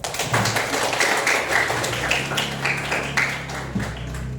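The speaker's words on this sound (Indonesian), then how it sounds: "beri aplaus" Classroom applause following a group's class presentation, a dense run of many hands clapping at once, steady and fairly loud for several seconds with no talk over it.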